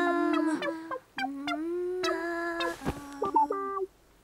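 A voice imitates a chicken clucking in a cartoon guessing game, giving a string of close, loud, pitched cluck-like calls with short gaps, heard alone without other talk.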